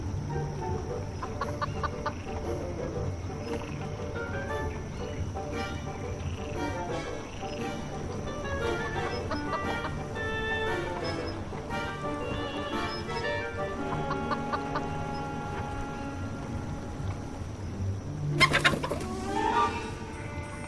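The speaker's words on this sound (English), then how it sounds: "Mere seconds later, it attracted the attention of the curious chicken." A curious chicken in the Foolish Mortals video game clucks amid busy game ambience with croaks, bird calls and background music, ending in a sudden louder flurry of sound near the close.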